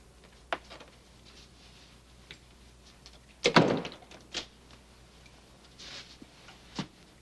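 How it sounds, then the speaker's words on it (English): An indoor door closes with a sharp thud, followed by a cluster of heavier clunks and rattles as it is locked, with a few lighter knocks scattered before and after in a quiet room. "Close the door and lock it."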